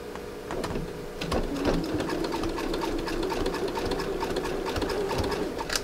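A sewing machine runs steadily, stitching through fabric-covered rope to form a coiled urn or lidded bowl, its needle clatter continuous and close throughout.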